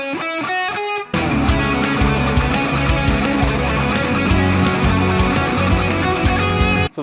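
A distorted electric guitar plays a melodic major-key lead lick: a few sparse, separate notes, then a loud, dense run of sustained overdriven notes that continues to the end, with no talking.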